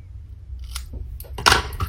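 Scissors snipping through a ribbon bow on a mini Christmas wreath: a few quick, close, crisp metallic snips, the sharpest near the end, in a quiet room.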